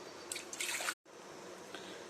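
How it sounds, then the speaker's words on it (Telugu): A little water poured into a bowl on a lit stove, a soft splashing trickle near and alone for under a second, then a brief gap and quiet kitchen hiss. "వాటర్ వేద్దాం కొద్దిగా."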